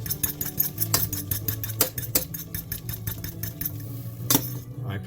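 Instant noodles and seasoning are stirred on a plate, with a utensil scraping and clinking in a quick rhythmic series over a low background hum.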